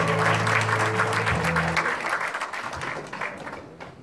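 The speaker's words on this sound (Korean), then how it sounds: "뜨거운 박수 부탁드리겠습니다." Loud, dense applause from an indoor audience at the founding ceremony of a labor rights center in Gyeongbuk, swelling at the start and slowly thinning out over about four seconds.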